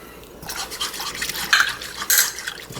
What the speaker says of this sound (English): And just stir, stir, stir vigorously.